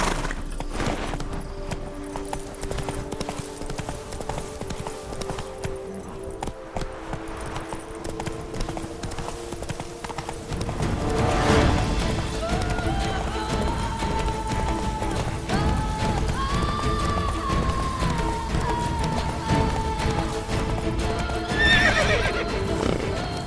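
In the game Witcher 3, a horse's hooves clip-clop in a quick gallop with repeated neighs and whinnies over background game ambience, growing busier in the second half.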